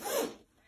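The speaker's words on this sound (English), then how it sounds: "Zipper." A single quick zipper pull rasps briefly and fairly close, then fades to near silence.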